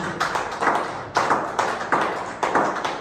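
Church congregation applauding and clapping in acclamation of the word of God during a French-language sermon, with bursts of sharp, rhythmic claps rising and falling in several waves, fairly close and loud, with no talking.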